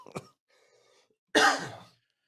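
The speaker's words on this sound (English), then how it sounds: "There's the cough." A person coughs, first with a short throat-clearing catch and then, after a faint murmur, with one loud, harsh, breathy cough that trails off.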